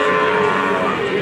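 Cattle at an Indonesian livestock sale, three large cows bought from a farmer, give a brief low moo over a dense, steady wash of crowd and farmyard noise.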